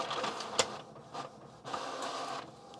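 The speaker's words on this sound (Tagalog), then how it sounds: "Pero ipiprint ko to sa medyo matigas na papel." An inkjet-style printer runs a PCB layout onto stiff folder paper, giving a few short mechanical bursts and a sharp click amid a steady whirring feed, all close and fairly quiet.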